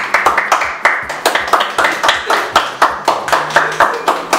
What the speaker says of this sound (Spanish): demos un aplauso para que ingrese acá